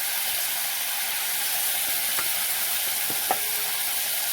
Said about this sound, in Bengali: এবারে এই যে মাখানো সয়াবিনটা দিয়ে দেবো।